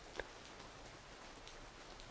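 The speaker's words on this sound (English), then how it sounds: "get out of that nasty cold rain" Cold rain falling steadily outside at night on a street, a soft continuous patter with one brief louder drop near the start.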